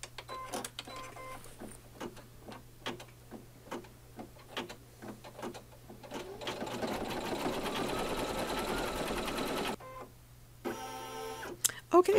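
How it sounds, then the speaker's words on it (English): An embroidery machine stitching a zigzag outline around appliqué hearts on a Valentine placemat: a rapid, evenly spaced run of mechanical ticks and clacks, then a dense steady whir for a few seconds, then more quick ticking, close and clear, with no talking. "The next stitching will be the zigzag so that I can cut around these hearts easily."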